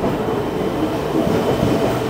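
A local train rolls into a station, producing a continuous loud low rumble and rolling roar of the carriages throughout, with no voices.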